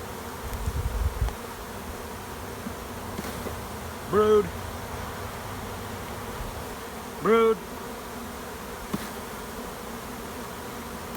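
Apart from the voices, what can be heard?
honey bees buzzing at an open hive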